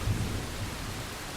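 Steady rain falls at night in a continuous dense hiss, with a low rumbling undertone like distant thunder, constant and even throughout.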